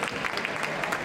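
An audience at a Christmas concert applauds with a short, dense burst of clapping that holds steady from start to finish.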